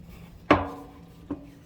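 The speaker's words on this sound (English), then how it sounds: "let me see if I can one hand pry it and tell if it's gonna come now" Prying loose the engine case cover on a Can-Am during stator replacement gives one sharp metallic crack followed by a smaller knock a moment later, close and otherwise quiet.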